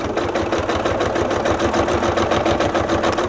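A sewing machine stitching a quilted hug shawl up to a cross point, producing a loud, close, fast rhythmic needle chatter that runs evenly throughout without talking.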